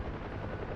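Huey helicopter in DCS World cruising at high speed, a steady dense rotor and engine roar that fills the whole clip without a break, loud and close, with no talk over it.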